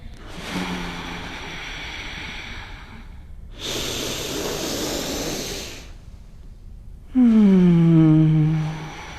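Deep, forceful breaths during a yoga class: a few long airy exhalations and inhalations separated by short pauses, the last one louder and partly voiced, close and alone without talk.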